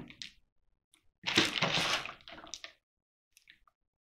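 Potting soil squished and pressed down firmly by hand around a philodendron micans, a few short moist crunching bursts with one longer packing push, close and alone with quiet gaps between.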